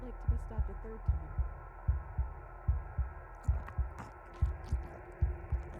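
A loud, steady heartbeat in the video game Slay the Princess, with regular low double thumps repeating about twice per second over a droning hum, alone without talk.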